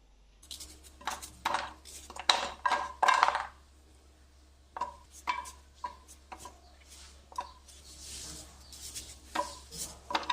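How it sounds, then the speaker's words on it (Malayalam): A knife chops ingredients finely on a board for a Kerala-style chicken ularthu, in quick bursts of close, sharp taps separated by short pauses. "ചെറുതായിട്ട് പൊടിയായിട്ട് അരിഞ്ഞെടുക്കണം"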